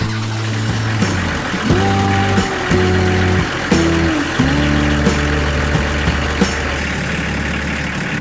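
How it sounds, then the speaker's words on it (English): A 1971 Bedford CF1 camper van engine idles steadily with a new thermostat fitted, a continuous low rumble with faint intermittent clicks and knocks, no talk over it. "I start the engine to ensure it runs at a stable, proper temperature, maintained by the new thermostat"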